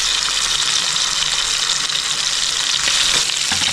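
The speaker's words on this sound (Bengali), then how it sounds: "আর 1 পিঠ ভেজে নিচ্ছি হালকা করে" Chicken leg pieces frying lightly in hot oil in a pan, a steady loud sizzle that carries on unbroken from start to finish.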